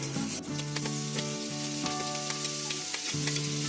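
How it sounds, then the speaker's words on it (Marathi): Onion and tomato frying together in hot oil with garlic and cumin, a loud steady sizzle with stirring scrapes and a sustained tonal hum underneath, no voices. "आता याच्यामध्ये मी कांदा आणि टोमॅटो बरोबर टाकणार एक साथ."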